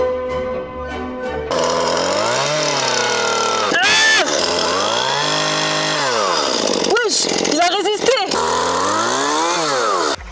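Power saw grinding through a supposedly unbreakable object, a loud continuous whine rising and falling in pitch as it bites, with sharp scraping bursts, running the whole time.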